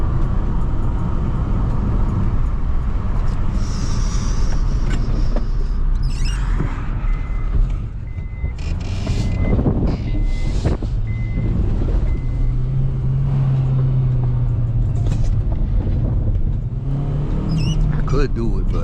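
A 7th generation Honda Accord cruising through traffic, with a steady road and engine hum from inside the cabin and someone talking loudly over it throughout.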